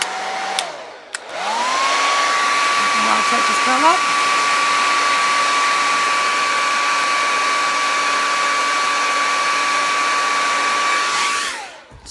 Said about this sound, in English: I also like to dry mine with my hairdryer to kind of curl it up